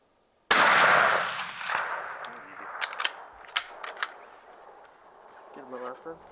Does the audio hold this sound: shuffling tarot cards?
no